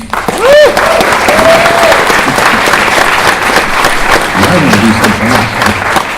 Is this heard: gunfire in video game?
no